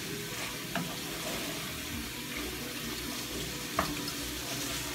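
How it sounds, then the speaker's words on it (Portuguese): Octopus sautés in a pan for a rice dish, with a steady loud sizzle and frying hiss throughout and a few clinks of stirring, no voices. "Agora vamos deixar refogar um pouco o polvo."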